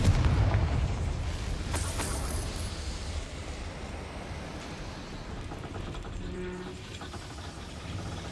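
A Confringo fire blast spell in Hogwarts Legacy, a loud booming burst at the start that rolls off into a sustained rumbling roar of the game soundscape.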